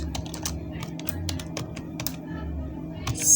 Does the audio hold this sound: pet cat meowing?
no